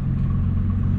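A Nissan GT-R engine idles on E85 fuel, a deep steady rumble with low throbbing pulses, close and continuous across a brief moment with no voices.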